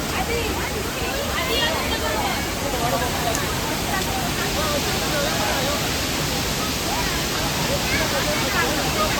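Mangleli waterfall roars as a loud, steady broadband rush close by, with people's voices faint beneath the constant water noise.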